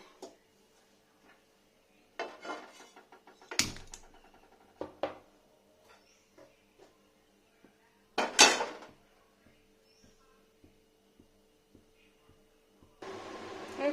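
A wok set down on a gas stove in a home kitchen while cooking chicken kosha, heard as a few loud metallic clanks and scrapes scattered over the clip, with quiet clicks between and a hiss near the end.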